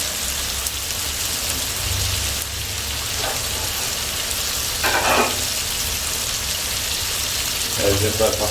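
Shrimp frying in a pan during a basic cooking class, a steady, loud hissing sizzle that runs throughout, with a few brief bursts of stirring or scraping on top.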